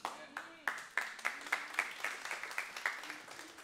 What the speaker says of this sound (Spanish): Damos un aplauso al Señor, por favor, de nuevo